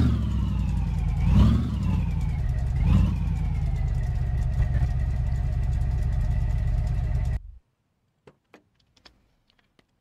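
A car engine runs steadily at close range as it is driven slowly into a parking spot beside a trailer, with a couple of brief revs early on, then cuts off abruptly, leaving a few faint clicks and knocks in near silence.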